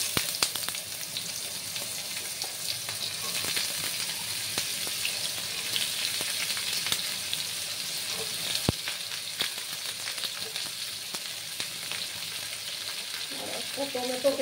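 Vegetable stalks (data) sizzle and crackle steadily in hot oil in a pan while being cooked for a Bengali data chasni, a dense frying hiss that continues close and even throughout.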